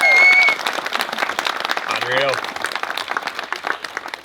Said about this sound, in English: A massive round of applause for our beautiful couple